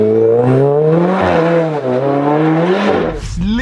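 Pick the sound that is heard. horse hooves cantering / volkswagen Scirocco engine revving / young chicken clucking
volkswagen Scirocco engine revving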